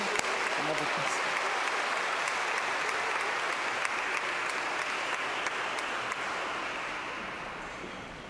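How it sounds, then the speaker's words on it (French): Sustained applause from a church congregation during a Sunday baptism celebration in Lachine, a dense steady roar of many hands that holds evenly, then slowly fades near the end, with faint voices mixed in. "on les applaudit encore une fois pour les encourager"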